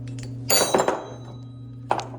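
Metal clinks and clanks from removing nuts to take the bonnet off a gate valve, a cluster of sharp knocks followed by a pause and one more clink, close by, over a steady low hum.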